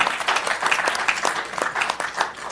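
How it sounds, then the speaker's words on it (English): Brief applause from a city council meeting audience, a dense patter of hand claps at moderate loudness, continuous and steady with no talk over it. "Give them a round of applause anyway"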